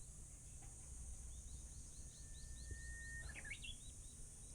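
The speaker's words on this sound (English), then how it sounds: "The high-pitched droning that you hear is some of these little platyplura cicadas." A steady high-pitched drone of Platypleura cicadas fills the forest, with a few faint bird chirps over the constant buzz.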